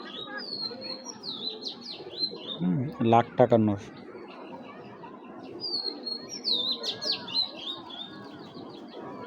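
A male racing pigeon gives bursts of high, thin chirping calls, clustered near the start and again later, with someone briefly talking in between.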